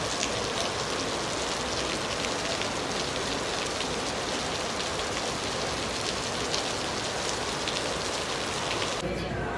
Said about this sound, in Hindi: तेज़ बारिश आती है।